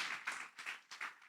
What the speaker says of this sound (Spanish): Le das un aplauso al Señor porque yo quiero eso.